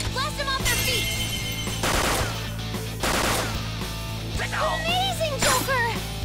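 Rapid bursts of gunfire in the Persona 5 Royal video game, dense and loud over driving battle music, with voices shouting in between.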